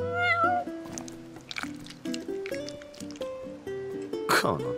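A cat meows in the video game Final Fantasy XV, with a few short meows near the start against steady in-game tones and other soft game sounds.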